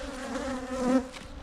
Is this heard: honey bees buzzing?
yes